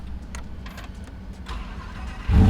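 A Lamborghini Huracan starts up: faint clicks and a low rumble, then the engine fires with a loud, deep roar at the end, close and without talk.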